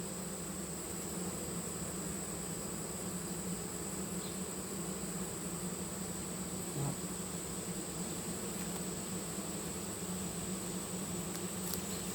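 Honey bees hum in a steady, dense drone around an open hive while a new queen is introduced, a continuous buzzing swarm close by with no talk.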